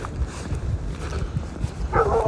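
A dog barks and whimpers a few times at close range, short yips over a steady low background rumble, with no talking.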